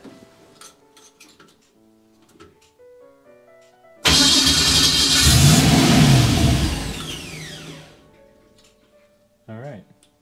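An airboat build's engine, run from a hand throttle, surges from low idle into a loud, roaring rev for several seconds, then winds down and falls back to a quiet idle, with a short burst near the end.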